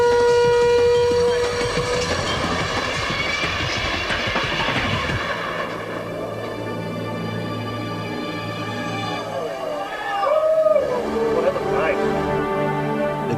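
A hydraulic launched roller coaster train clears its tall launch tower during a test run. There is a loud, sustained rumbling roar for several seconds, then it fades into steady tones and a brief rising whine.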